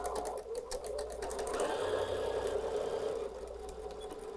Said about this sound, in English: Let's sew a good 1/4 inch seam allowance.